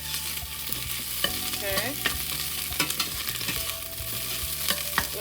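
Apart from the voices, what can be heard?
stirring meatless spaghetti sauce in a pan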